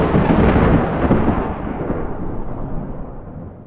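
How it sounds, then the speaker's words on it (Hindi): A single loud, deep thunderclap rolls out and slowly fades over a few seconds, rumbling heavily with no voices. "अचानक पानी में जोर का हलचल हुआ और एक बड़ा डरावना तूफान आ गया"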